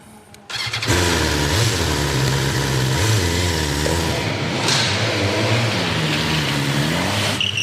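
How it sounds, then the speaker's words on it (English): A BMW S 1000 R motorcycle fires up and revs hard through donuts and burnouts, its engine roaring loud and close with rising and falling revs and tyre scrub throughout. "Chris jumps back on the new R and throws down a few donuts and burnouts"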